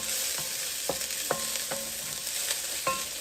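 Collard greens cook down in a pot with a steady, close sizzle and frying hiss, broken by several light clicking stirs at irregular intervals, and no voices.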